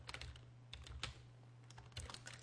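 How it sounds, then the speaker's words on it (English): Quick, close taps on a computer keyboard come in short irregular bursts, quiet and alone without talk. "we're going to type wiggle"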